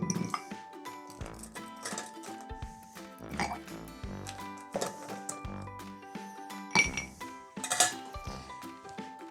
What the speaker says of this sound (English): Let's drop a couple ice cubes in there.